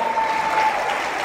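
An audience at an Elvis tribute show in Marshalltown, Iowa, applauds in a dense, loud, steady burst of clapping that fills the whole moment.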